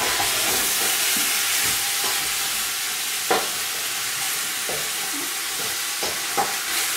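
Couscous semolina being mixed by hand with cold water, a steady close rustling and hiss with a few soft scrapes and taps against the bowl, continuous and fairly loud with no talking.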